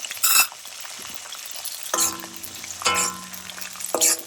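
Onions sizzle in a pan for a mutton liver fry, a continuous frying hiss broken by several loud bursts of stirring and scraping with a utensil against the metal.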